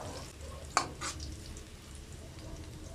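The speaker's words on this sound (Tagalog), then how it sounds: "Inuuna ko lagi ang bawang sa pagigisa." Garlic sautéing in a home kitchen pan gives a steady, low sizzle of frying throughout, with a couple of brief clinks from utensils near the start.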